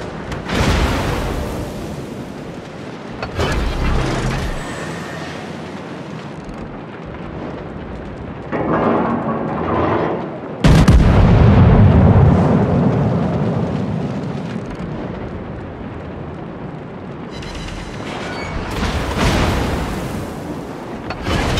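Main guns on a Fuso battleship fire in World of Warships, heavy booming salvos rolling into sustained loud rumble, with layered blasts and engine-like noise filling the whole stretch.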